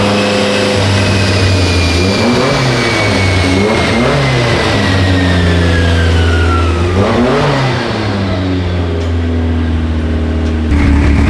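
A car engine warming up on a dyno revs repeatedly in short rising pulls over a steady idle, loud and close, a rhythmic series of throttle blips, no voices.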